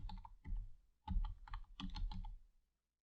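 A computer keyboard typed on at close range in quick irregular clusters of key presses, ending in silence.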